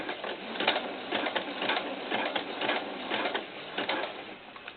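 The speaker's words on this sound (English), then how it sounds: "Pull out my first needle and just start sewing." Sewing machine stitching a doll camisole, running steadily throughout with a rapid, even mechanical chatter, fairly loud and close with no talking.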